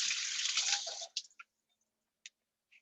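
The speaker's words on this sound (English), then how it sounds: "let me give my hand another rinse here." Running water rinses hands at a kitchen sink while a vegan menudo is being cooked: a close, steady splashing stream for about a second, then it stops and a few scattered drips and small clicks follow.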